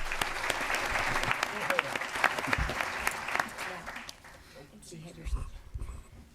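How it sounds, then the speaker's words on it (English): Audience at a school district formal board meeting applauds a student, a dense burst of clapping that holds steady, then thins out and fades toward the end. "Let's give him a round of applause."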